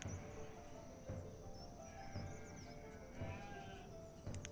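Sheep bleat repeatedly in the video game Banished, with several overlapping calls rising from a steady, dense farmyard ambience that carries no talk.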